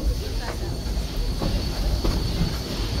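A ghost train ride rolls along its rails in a steady, loud rumble, with faint clacks and squeaks of wheels on track running under the noise throughout.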